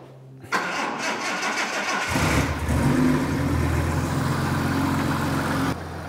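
A Jaguar XJ6 Series III engine cranks briefly, catches, and settles into a steady, loud idle that runs for several seconds before easing off.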